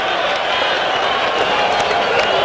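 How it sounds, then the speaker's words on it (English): At a 1983 USFL night game between the New Jersey Generals and Chicago Blitz, a large stadium crowd keeps up a loud, continuous roar of cheering and applause for the whole moment. "A lot of this big crowd has remained despite the late hour."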